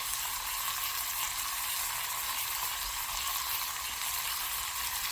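Meat and onions fry in a pan with a steady, even sizzle that runs the whole time, close and moderately loud, with no talking.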